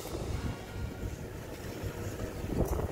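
A sailing yacht under mainsail and engine off the Croatian coast near Krk, a steady low engine drone mixed with wind rush and water noise throughout.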